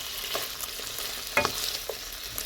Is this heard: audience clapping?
no